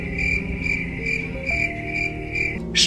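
Crickets chirp in steady repeating pulses, high and clear, with a faint low hum underneath and no one speaking.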